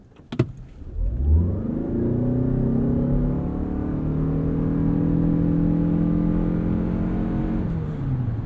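A 2022 Lexus NX 450h+ F Sport plug-in hybrid accelerates hard from a stop toward 60 mph, a low engine drone swelling up and holding steady alongside a faint whir, heard from inside the cabin, after a brief clunk at the start.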